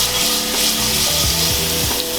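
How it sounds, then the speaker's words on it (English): Garlic toasting in three tablespoons of olive oil in a pan over medium-low heat for aglio e olio, a loud, dense, continuous sizzle up close with a few soft utensil scrapes, no voices. "olive oil, 3 tablespoons, and then we'll go in with the garlic. So we'll lightly toast everything."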